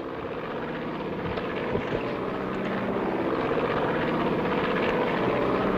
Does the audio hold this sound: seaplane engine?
yes